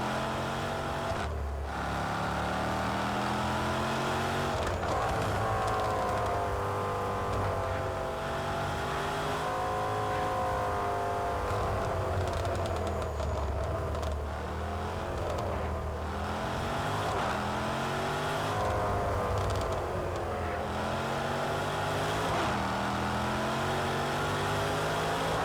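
A race car in Project Cars 2 laps Cadwell Park, its engine revving up and down through gear shifts in a continuous, close drone, with brief bounces off the rev limiter and no talk.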